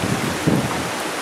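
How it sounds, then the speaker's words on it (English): Strong Hurricane Sandy wind roars steadily around a suburban street in Bryn Mawr, Pennsylvania at night, a broad continuous rush with a brief gust swelling midway. "It is pretty windy."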